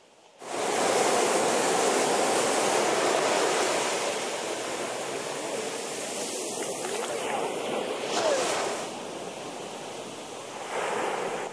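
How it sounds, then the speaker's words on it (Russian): Ocean surf at Karon Beach, Phuket, during a stretch of big waves: a loud, steady wash of breaking waves that swells and eases, with the roar continuous and no clear speech. "Все 2 недели океан бурлил большой волной."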